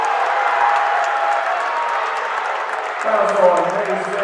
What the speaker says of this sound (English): Maysville crowd does not like it